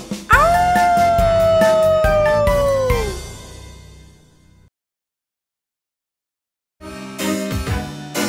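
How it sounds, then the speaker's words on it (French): Halloween monster noises: a loud, drawn-out howl sliding slowly downward over low growling and rumbling tones, then a pause of near silence before another burst of growly, thumping sound. "Je les entends grogner, écoutez les hurler."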